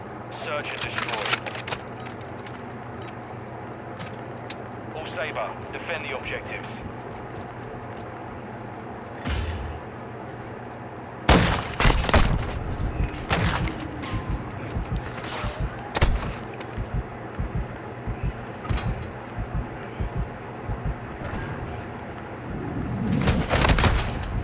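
Gunfire in Call of Duty: Modern Warfare II, with scattered bursts of shots and sharp cracks in uneven clusters, some loud and close, between quieter stretches of game background, with a player talking over parts of it.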